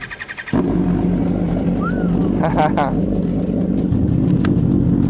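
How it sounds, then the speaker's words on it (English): Motorcycle engines idle loudly and steadily after starting up, a dense continuous rumble with a brief rising tone and a few quick revs, while people talk over the noise. "These bikes are so loud."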